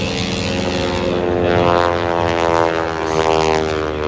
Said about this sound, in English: the propeller tips are making some noise too, aren't they?